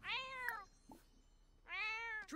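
A cat in The Sims 4 gives two clear, drawn-out meows, near and loud, separated by a short quiet gap with faint game sounds in between.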